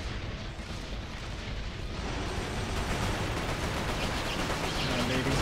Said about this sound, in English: Like he's shooting again.